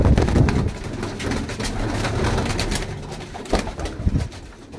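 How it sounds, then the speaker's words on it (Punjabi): Pigeons coo in a loft of about thirty birds kept for sale, with low, rolling calls overlapping close by amid some rustling and light background noise, with no talking. "ਅਤੇ ਕਬੂਤਰ ਬਹੁਤ ਅੱਛੇ ਨੇ"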